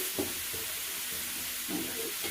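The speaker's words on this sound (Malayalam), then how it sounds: "ഈ അടുപ്പത്ത് ഞാൻ ഇളക്കുന്നത് ചോറ്റിനാണ്" Rice being stirred in a pot on a stove, a steady sizzling hiss with soft scraping strokes of the spoon recurring every second or so, close and fairly quiet.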